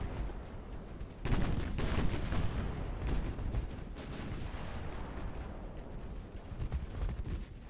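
Naval gunfire from warships in the game Ultimate Admiral Dreadnoughts, a sudden heavy salvo followed by a steady rumble of repeated cannon booms and distant shell impacts, loud and continuous.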